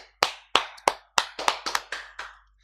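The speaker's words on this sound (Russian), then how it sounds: "Мы просто аплодируем" A handful of people in a Russian kitchen-studio talk show clap in an irregular, spaced-out way, with about nine sharp, distinct claps over a couple of seconds, close and clear, with no voices.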